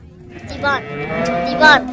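Cattle at a cattle market moo in two long, loud calls close by, the second rising higher, with a steady low lowing in between and no talk.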